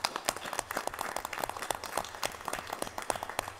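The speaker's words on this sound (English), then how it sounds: "I think they might deserve a round of applause, Mr. Chairman." At a Board of Education meeting, a small group gives a round of applause. The clapping is faint, loose and scattered, with irregular hand claps spread across a few seconds.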